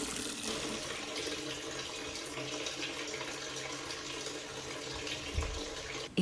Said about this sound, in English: While the antifreeze is still leaking